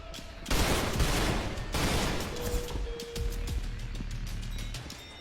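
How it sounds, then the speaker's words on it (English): Rapid video-game gunfire, pistol shots chained one after another in dense continuous bursts with crashing impacts, loud and sustained for several seconds with no talk over it. "As long as I keep the pistol on me and just chain headshots."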